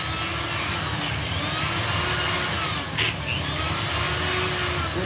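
A BRM ball hone spins inside a small-block Chevy Dart SHP engine block, smoothing sharp edges, with a loud, steady whirring drill roar that runs without a break.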